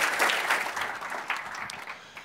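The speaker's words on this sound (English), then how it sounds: "Ladies and gentlemen, round of applause" A conference audience gives a short round of applause, a dense burst of clapping that swells at the start and gradually thins out over about two seconds.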